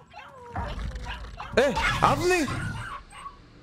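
A dog in the horror game Layers of Fear 2 yips, barks and whimpers in a short, whiny burst, while a voice reacts over it.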